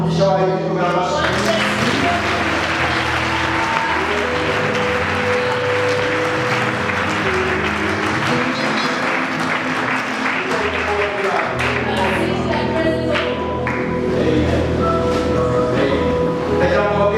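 A church congregation applauds in sustained, dense clapping that carries on for most of the stretch, mixed with music and voices throughout.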